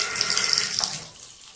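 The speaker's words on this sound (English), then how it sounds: "Look, the shower's starting." Water runs from a bathtub shower head fitted with a tub spout diverter, a steady loud hiss that tapers off somewhat toward the end, with no talking.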